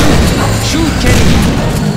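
Gunshots in the survival horror game Obscure: loud, dense booming blasts crowd the whole short moment with no clear gaps between them.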